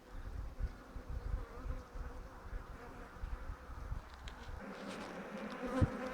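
Honeybee colony in an open hive, crowded and running out of space, hums in a steady, close buzz with individual bees drifting past, continuous throughout and no talking.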